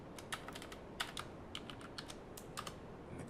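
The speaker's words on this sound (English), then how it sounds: "we are going to type clear" A computer keyboard typed at a moderate, uneven pace, with a dozen or so light key clicks heard close up and faint against a quiet room, no voices.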